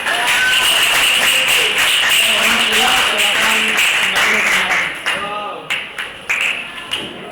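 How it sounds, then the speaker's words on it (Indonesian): A class applauds a student group after their presentation. Dense, loud clapping fills the room, then thins into a few scattered final claps as it fades. "kita berikan tepuk tangan untuk kelompok 2"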